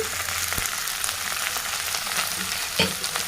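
Okra frying in a pan of hot oil with mustard seeds, cumin and onion, a dense, steady sizzle close up with occasional stirring scrapes and no talking.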